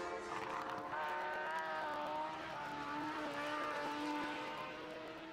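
A racing motorcycle engine howls steadily around the Bishopscourt circuit during a road race, a strong multi-toned whine holding for several seconds with slight rises and falls in pitch as it passes.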